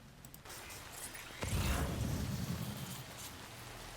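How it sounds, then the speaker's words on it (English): Rain in the video game Death Stranding, a faint hiss at first that swells into a steady heavy downpour with a low rumbling undertone, continuing alone. "rain that just it isn't gonna stop"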